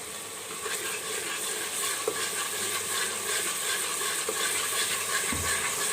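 Masala frying in a pan for a rice sabzi, with a steady, faint sizzle and crackle running throughout and occasional light clinks of stirring.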